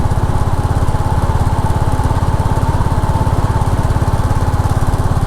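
A Royal Enfield Classic 350 motorcycle engine thumps loud and close with a rapid, even single-cylinder pulse while riding, steady throughout with no talk.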